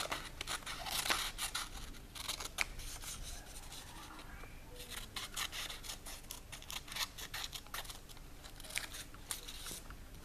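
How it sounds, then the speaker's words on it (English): Scissors cut out paper tangram shapes with careful, accurate snips, a steady run of close, quiet crisp cuts and paper rustling with no talk. "we can carefully, and this is with accurate cutting now, cut out our tangram shapes."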